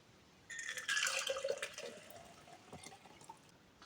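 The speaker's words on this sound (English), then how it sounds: "I'm going to pour it into this jug" Dissolved sugar pickling liquid for beetroot is poured from a pan into a jug, giving a steady close splashing trickle for about three seconds.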